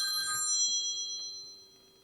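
A mobile phone rings with an electronic ringtone, a bright tonal trill that sounds once and fades quickly, fairly close with quiet surroundings.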